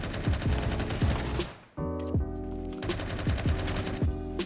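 Scar L assault rifle in Roblox Phantom Forces fires in rapid automatic bursts, a brief pause splitting two loud, close strings of shots with ringing mechanical tones underneath.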